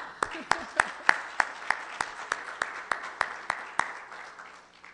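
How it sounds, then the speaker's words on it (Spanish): A church congregation claps in a slow, even rhythm, about a dozen sharp claps that come close together at first and then taper off, with a murmur of voices under them. "déjeme dar un aplauso"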